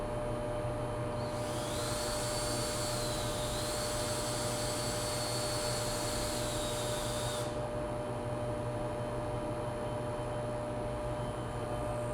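A Tuni E2 58mm espresso machine builds pressure while brewing: a steady loud pump drone with a hiss that rises and holds for several seconds before cutting off abruptly, the motor hum continuing throughout, with no talking.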